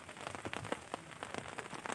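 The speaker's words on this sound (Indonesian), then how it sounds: "Ada hujan gitu, gerimis." Light drizzle falls at a pine forest campsite on Mount Sawal, a soft steady patter of small drops on surfaces with faint scattered ticks, close and quiet, with no voices.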